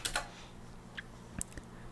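Light typing on a computer keyboard, a handful of sparse, quiet key clicks spread unevenly with faint background hum and no talking.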